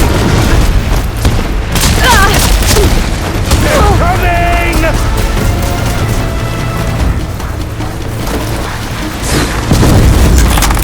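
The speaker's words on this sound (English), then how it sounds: "I love this cannon!" Heavy cannon fire from a mounted gun in the Horizon Forbidden West Burning Shores DLC, loud repeated booms and bursts layered with battle effects and in-game character shouts.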